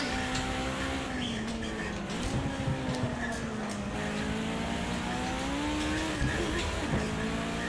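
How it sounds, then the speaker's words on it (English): A pack of race cars runs close behind in the Project Cars 2 racing game, with engine tones rising and falling as the drivers shift, plus occasional tire squeal, all at a moderate level. "You hear the row of cars behind me."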